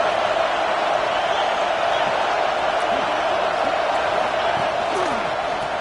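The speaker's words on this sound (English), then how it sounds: "The crowd really making some noise now, trying to help out this defense to get this stop near the goal line." Roaring stadium crowd noise from a College Football 26 video game, a steady dense wash of cheering near the goal line, continuous and loud throughout with no distinct breaks.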